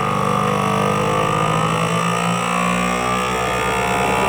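A vacuum sealer's pump runs steadily and loudly throughout, a continuous droning motor hum with no pauses, while sealing plastic bags of homemade dehydrated backpacking meals.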